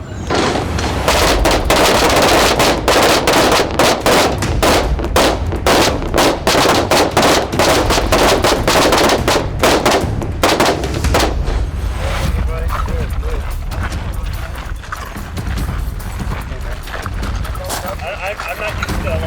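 Rifle shots in a timed kneeling shooting drill, a run of sharp loud reports in quick succession over roughly ten seconds, with people talking around them outdoors.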